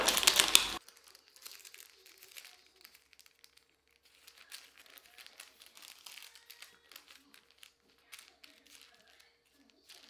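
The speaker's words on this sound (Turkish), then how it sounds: "Soğumuş olan kekimizi şöyle açarak yavaşça yağlı kağıttan sıyıralım." Cooled lemon sponge cake peeled slowly off greaseproof paper, giving soft, close crinkling and light paper rustles in intermittent bursts after a brief loud noise at the start.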